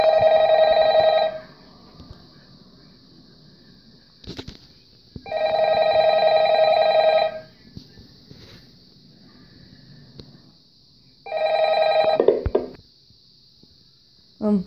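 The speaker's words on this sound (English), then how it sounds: "time to listen to the new phone call." A telephone rings in the Five Nights at the Elf on the Shelf 2 video game, with three long, loud bursts of electronic ringing separated by quiet gaps and a steady high tone underneath.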